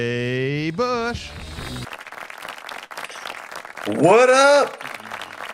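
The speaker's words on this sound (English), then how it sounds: "All right, that's enough clapping." An audience claps and cheers to welcome a winemaker guest, the applause blending with loud sung or shouted vocal bursts at the start and near the end, voices prominent over the crowd noise.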